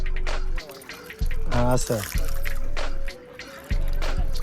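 Water poured over a Ghatan Devi idol at a temple comes in short splashing bursts between pauses, close and fairly loud, while people talk over it.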